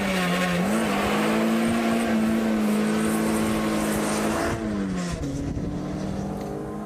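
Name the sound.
car driving on a test track on performance tyres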